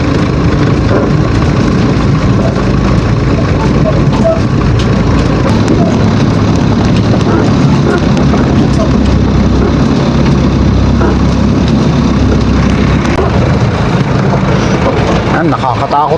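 A vehicle engine while driving on a rough road as rain begins, a loud continuous low rumble and drone with jolting bumps and rattles throughout, with a voice talking over it.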